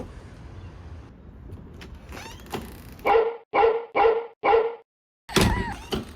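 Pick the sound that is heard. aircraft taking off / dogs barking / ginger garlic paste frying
dogs barking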